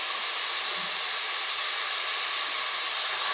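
Vegetables for fried rice, including cabbage, frying in a pan give a steady, loud, close sizzling hiss that runs unbroken throughout, with no talking.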